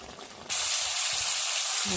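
New potatoes and tomato are sautéed in a hot pan for a potato curry. A quiet moment gives way to a sudden, loud, steady sizzle that hisses on without letup.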